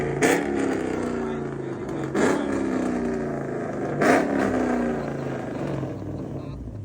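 Car engine with aftermarket Temu headers and the mufflers removed, revving repeatedly in loud raspy bursts over a continuous rumbling idle, recorded close by.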